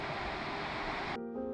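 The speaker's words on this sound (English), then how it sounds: "You hear the waterfall before you see it." Savari waterfall in Netravali, South Goa, pours in a steady roaring rush heard from the top of the falls, a dense continuous wash that cuts off abruptly near the end.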